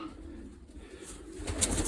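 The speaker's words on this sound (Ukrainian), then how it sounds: "Тут ось теж прекрасні голубочки." Domestic pigeons cooing inside a loft of breeding birds, soft low calls rising toward the end over a steady murmur of the flock, fairly close.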